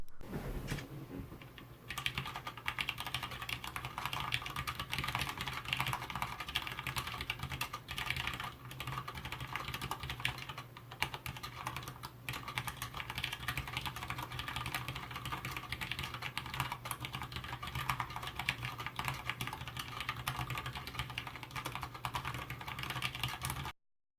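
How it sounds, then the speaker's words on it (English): Steady, dense typing on a TheVanKeyboards Minivan, a 40% staggered aluminum mechanical keyboard: continuous clacky keystrokes close up with no talking, running for the whole stretch. "Before we move on to the typing demonstration"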